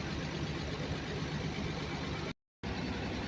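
An M37 military truck engine running after a radiator repair, a steady close, loud rumbling drone that drops out for a moment before resuming.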